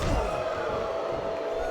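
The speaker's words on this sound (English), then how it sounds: "It sounds like this capacity crowd has something on their minds, Taz." A capacity wrestling arena crowd at WWE SmackDown roars steadily throughout, a dense, continuous wall of cheering and shouting with no breaks.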